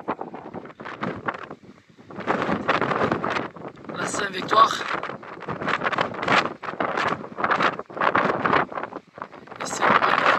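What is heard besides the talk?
wind on a mountain summit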